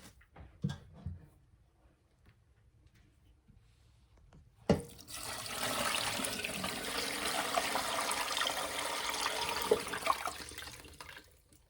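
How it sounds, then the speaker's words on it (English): A few quiet knocks, then brine liquids suddenly gush into a turkey brining bag and pour steadily for several seconds, close and fairly loud, ending in splashes. "we poured all our liquids in there"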